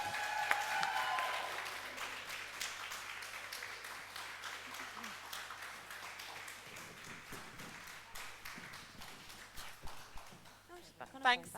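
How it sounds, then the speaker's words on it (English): An audience claps steadily for the cast at a theatre work-in-progress performance. The applause fades gradually, and a few louder claps and voices stand out near the end. "can we have here another round of applause for this amazing cast?"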